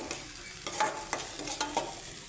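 Ginger garlic paste fries with onions for pav bhaji, a soft continuous sizzle marked by a handful of spatula scrapes and clinks against the pan, close up, with no talking.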